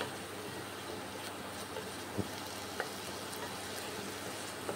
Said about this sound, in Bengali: এখন ফ্রাই করে নিচ্ছি মশলা